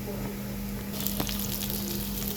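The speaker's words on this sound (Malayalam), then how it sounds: "കടുകും പൊട്ടിച്ച് ഉലുവയിട്ട് ഇഞ്ചി പച്ചമുളക് പിന്നെ വേണ്ട കാന്താരി ഇത്രയിട്ട് ഇങ്ങനെ നന്നായി വഴറ്റിക്കൊണ്ടിരിക്കുകയാണ്" Ginger, green chili and kanthari chili sauté in hot oil with mustard seeds and fenugreek for a kanthari fish curry, a soft steady sizzle with brief crackles and a faint stir partway through.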